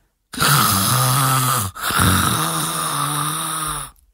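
A voice imitates a bearded man snoring, two long drawn-out nasal snore sounds with a brief gap between them, loud and close with no other noise.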